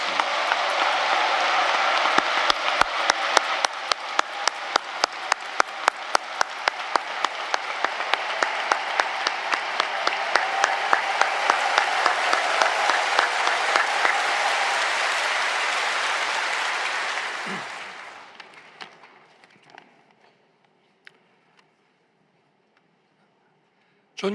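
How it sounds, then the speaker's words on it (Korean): A large church congregation at an Easter union service at Yoido Full Gospel Church greets President-elect Yoon Suk-yeol with loud, sustained applause that swells for about fifteen seconds, then fades to near silence. "이제 당선되신 우리 윤석열 20대 대통령 나오실 때 뜨거운 박수로 함께 맞아주시면"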